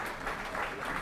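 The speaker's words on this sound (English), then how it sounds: "I'm sorry we're still clapping" MPs in the House of Commons applaud in a steady, dense wash of clapping from many hands, filling the chamber without a break.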